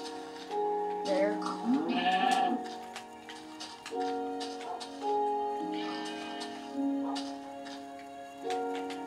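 Sheep in Minecraft, played on Xbox, give several wavering bleats, some overlapping and close by, over a quiet ticking background, while a person speaks softly in between.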